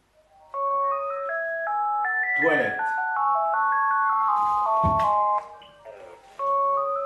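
A telephone plays a melodic ringtone of stepped electronic tones that repeat in a tune across several seconds, loud and close, with a brief spoken word and some rustling noises partway through.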